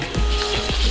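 Papad fries in hot sunflower oil, a dense, continuous hiss and crackle at close range with a couple of faint knocks, and no one speaking.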